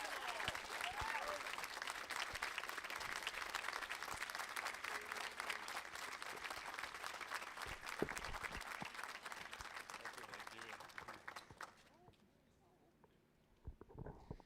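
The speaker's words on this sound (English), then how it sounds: "So let's give a huge round of applause to Mr. Michael Seibold, please." Sustained audience applause fills a hall at a high school band concert, dense steady clapping for about twelve seconds before dying away into quiet with a few scattered claps.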